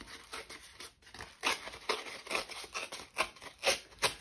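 Scissors snip through paper while trimming pieces for a black, white and gold collage, a quick series of close, crisp cuts and rustles in an irregular rhythm.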